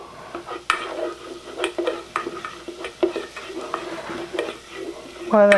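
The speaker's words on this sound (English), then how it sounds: "garlic is getting done. You'll see that it's getting nicely cooked" Garlic sautéing in a pan for Mexican quinoa, a close crackling sizzle broken by repeated sharp stirring scrapes and clinks of a utensil against the pan, with a short clatter at the end.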